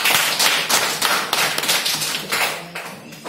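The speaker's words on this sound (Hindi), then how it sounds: "इस बच्ची के लिए ताली बजा दो।" Classroom of students clapping for a classmate, a close burst of rapid, overlapping applause that gradually tapers off.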